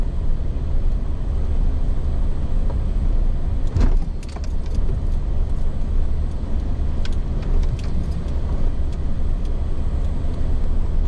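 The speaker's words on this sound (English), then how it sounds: "I know every one of these trucks." Fishing guides' trucks roll past beside the Skykomish River on opening day, a steady, moderately loud vehicle drone with a swell as one passes near the middle, continuing without speech.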